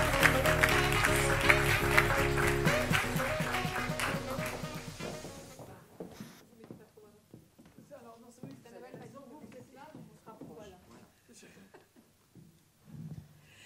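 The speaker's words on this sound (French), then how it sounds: "Nous pouvons les applaudir." An audience at a French business conference gives loud, dense applause to welcome speakers for about five seconds, then it fades out and a voice begins talking over a quiet room.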